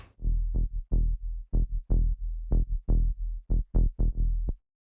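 Clean Diva synth sub bass with no distortion, playing a syncopated Afro house groove of short, punchy low notes that follow the percussion rhythm, loud and alone before stopping abruptly.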